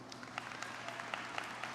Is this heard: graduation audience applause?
yes